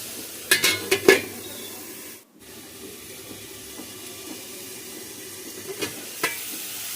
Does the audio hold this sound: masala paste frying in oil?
yes